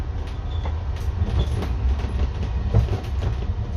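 A Heathrow airport parking pod, an automated transit vehicle, runs on its track with a low continuous rumble and occasional light clicks and rattles. The sound is fairly close and steady, with no talking.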